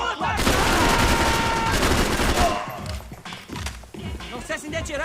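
Dense gunfire in the Xbox 360 video game Max Payne 3 bursts into a loud, continuous fusillade that fades after a few seconds into scattered shots and shouted voices.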